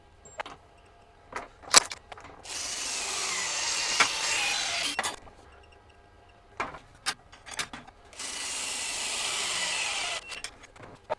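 A FLEX 24V compact impact wrench fires two long, loud hammering bursts while tightening fasteners at high torque. Each burst lasts a few seconds, with scattered clicks and knocks from handling the tool and parts between them.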